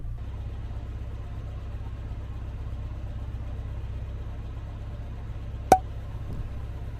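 A vehicle engine idles right at its exhaust pipe, a steady low rumble throughout, broken once by a single sharp click near the end.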